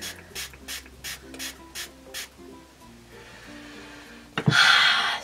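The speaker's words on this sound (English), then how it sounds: "I think I'm gonna spray it with some priming water." Priming water misted onto a makeup beauty blender: a loud, close spray burst near the end, after a stretch of soft tapping and clicking sounds.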